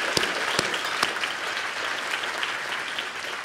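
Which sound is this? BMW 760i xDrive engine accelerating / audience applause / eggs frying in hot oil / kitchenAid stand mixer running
audience applause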